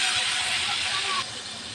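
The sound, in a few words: prawns frying in a pan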